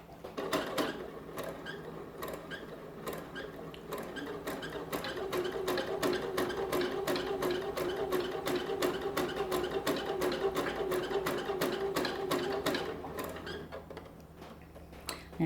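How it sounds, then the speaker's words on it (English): A sewing machine stitches fabric with shirring elastic in the bobbin, running steadily and alone with a fast, even mechanical patter that holds close and loud, briefly easing near the end. "So I'm just going to continue on now sewing until I reach the end of my fabric."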